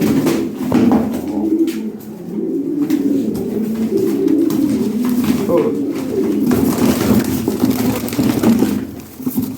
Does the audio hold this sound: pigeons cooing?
yes